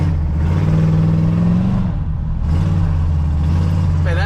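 A Chevrolet squarebody truck engine runs loud and steady on its first drive, a deep continuous rumble with a brief dip in revs before it climbs again, with no talk over it.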